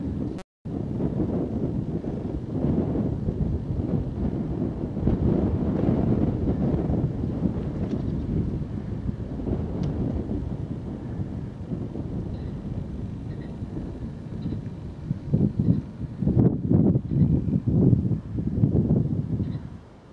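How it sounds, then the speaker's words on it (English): Wind on a hilltop walk at night buffets the microphone in a continuous low roar, steady and loud, with gusts swelling and rumbling near the end. "Wind's picking up again, bringing tonight's rainfall."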